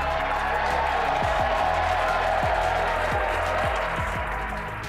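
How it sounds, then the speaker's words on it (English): A crowd at SpaceX Mission Control in Hawthorne cheers and applauds during a booster landing, a steady dense wash of clapping and shouting beneath low rumbling tones. "Crowds cheering here at SpaceX Mission Control Hawthorne as we tune in to see if we stick the landing."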